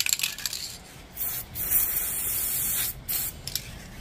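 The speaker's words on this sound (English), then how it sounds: "Put a wee bit of WD-40 on it, I think." A WD-40 spray can releases several short hissing bursts onto the switch of a Panasonic EY75A2 impact driver, close and fairly loud, with brief pauses between sprays and no talking.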